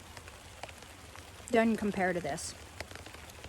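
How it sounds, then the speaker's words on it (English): Rain falls outdoors in a garden during asparagus crown planting, a soft steady patter in the background while someone speaks briefly over it. "Sorry, it's raining all over me."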